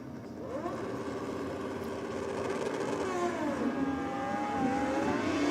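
A two-stroke drag racing motorcycle launches down the strip, a high rising engine whine that climbs in pitch and grows louder over several seconds, heard at a distance with no talk.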